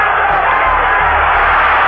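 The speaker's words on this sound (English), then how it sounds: "His crowd responding to this fight." Boxing arena crowd at the Muhammad Ali versus Joe Bugner fight, a dense, steady roar of cheering that holds loud and unbroken throughout without letting up.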